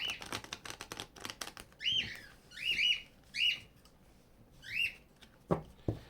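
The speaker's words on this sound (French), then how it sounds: "J'espère que les oiseaux n'auront pas dérangé votre écoute." Several short, bright bird song phrases ring out at moderate distance in a quiet setting, coming in spaced bursts alongside a few sharp clicks and taps.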